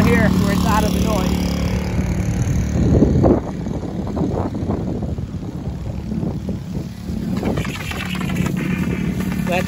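A gas-powered soft wash system's small engine runs at a steady, loud drone close by while people talk over it throughout.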